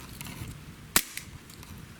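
A single sharp gunshot from a Beretta 92A1 pistol, one loud crack with a short echo, heard alone against quiet background.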